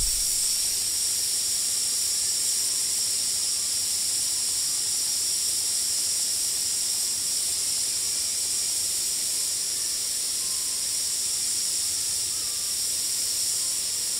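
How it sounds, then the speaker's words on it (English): A Men's Grill pressure cooker full of pork, potatoes and vegetables sits over a campfire, releasing a steady, loud, high hiss of steam that holds unbroken and even throughout. "We got the Men's Grill pressure cooker going with some really nice pork"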